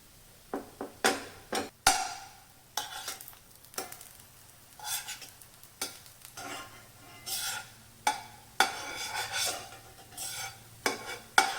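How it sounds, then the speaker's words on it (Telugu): Bread pieces frying in a pan to light golden brown, heard as repeated scraping and stirring strokes with bursts of sizzle in an uneven rhythm, close and fairly clear, with no voices. "ఇప్పుడు ఇందులోకి ఈ బ్రెడ్ పీసెస్ని వేసుకుని లైట్ గోల్డెన్ బ్రౌన్ వచ్చేదాకా వేయించుకుందాం"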